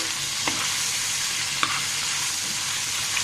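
Pieces of chicken meat sizzle steadily in a hot pan, a constant bright frying hiss with a few soft clicks of stirring, close and alone without voices.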